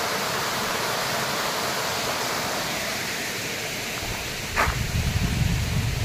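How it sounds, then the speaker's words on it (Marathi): A forceful monsoon stream rushes downhill along a hillside road in rainy Konkan, making a steady, close, broadband roar of running water with a heavier surge of splashing near the end. "पाण्याला फोर्स बघा पऱ्याच्या."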